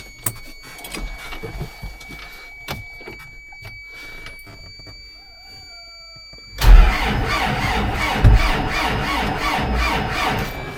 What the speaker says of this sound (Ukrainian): спробую, може сам заведу його